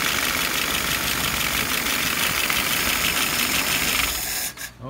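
A carbureted engine running steadily at idle, a close, constant mechanical drone with even low knocking that holds throughout before briefly dipping at the end.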